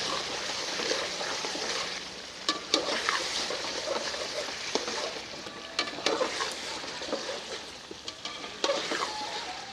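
Quail karahi frying in a pan, with a steady loud sizzle and repeated scraping, clattering stirring strokes throughout, with no talking.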